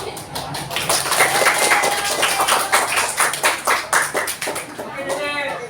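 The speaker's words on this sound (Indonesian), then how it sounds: "Tepuk dulu." Rhythmic hand clapping of a small group in a classroom, a steady burst of claps lasting several seconds, fairly close and loud, with a voice speaking briefly near the end.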